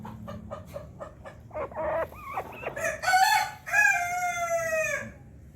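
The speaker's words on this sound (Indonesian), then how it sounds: "Ayam American Silky." An American Silkie chicken crows a long, warbling call after a few short clucks, fairly close and clear over a low background hum.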